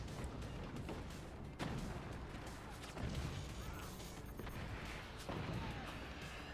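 Rockets land in the strategy game Forts as a steady barrage of muffled booming impacts and crashes, several distinct hits spaced over a few seconds against continuous rumbling battle noise, fairly quiet overall.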